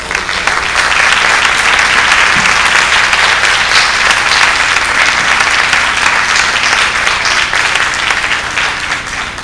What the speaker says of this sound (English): How about a round of applause for all of you?